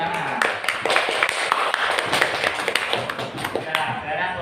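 A classroom audience claps after a group presentation, a brisk run of distinct hand claps with sharp individual strikes, fairly close, with some voices mixed in.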